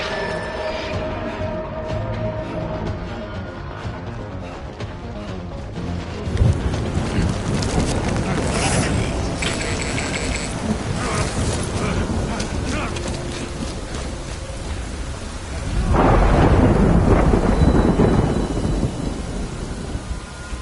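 A thunderstorm with heavy rain in the video game Death Stranding, a constant loud downpour with deep rolling thunder swelling twice, the second rumble near the end heavier, while voices talk over it.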